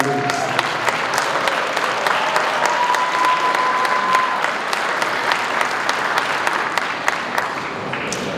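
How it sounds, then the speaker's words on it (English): A crowd at a New York State Assembly inauguration ceremony applauds steadily, a dense wash of clapping with scattered sharper claps and a brief whistle, continuing at an even level throughout. "So please join me in a round of applause for Caridad de la Luz."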